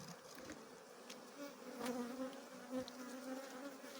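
Many honeybees drone on hive frames in a steady, close buzz that swells and fades slightly, with no talking.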